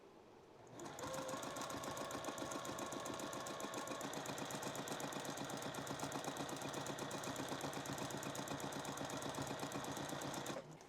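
A sewing machine runs steadily for about ten seconds, stitching appliqué onto a T-shirt with a fast, even mechanical chatter and hum, close up and alone, starting and stopping cleanly.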